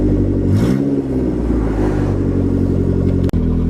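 A boosted Nissan D21 truck engine idles steadily close by and gets a brief blip of throttle that rises and falls back, followed by a sharp click near the end.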